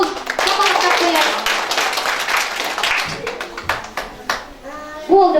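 Kindergarten audience clapping for a young girl, a dense burst of applause from many hands that gradually thins out, with children's voices and an adult's talk mixed in throughout.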